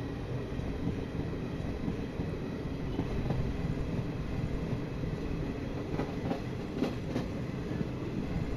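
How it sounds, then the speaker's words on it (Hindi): An Indian Railways train rolls steadily along the tracks, a continuous close rumble of wheels and coaches with faint clicks near the end, no voices. "अब हमारी ट्रेन जो है आगे से लेफ्ट हैंड साइड पे टर्न करने वाली है"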